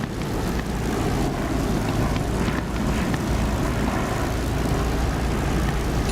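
Fixed-wing aircraft on final approach in the DCS flight simulator, a constant droning engine and wind rumble at a steady level, with no talk.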